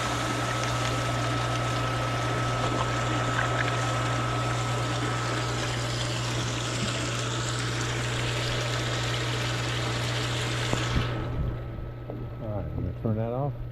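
A Hayward S200 pool sand filter runs steadily with a constant hum and water rushing through it, loud and continuous for about eleven seconds before the flow cuts off and the sound drops away.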